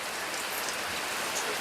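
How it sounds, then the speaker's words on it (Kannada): Heavy rain pours down outdoors in a steady, dense hiss of drops hitting surfaces, close and even throughout, with no voices. "ನೋಡಿ ಅಂತೆ ಮಳೆ, ನೋಡಿ ಅಂತೆ"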